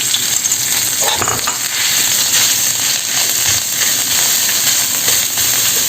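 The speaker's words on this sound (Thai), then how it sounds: "คั่วให้หอมนะคะ" Thai red curry paste frying in a little oil sizzles steadily in a pan, a continuous bright crackle and hiss with faint stirring scrapes.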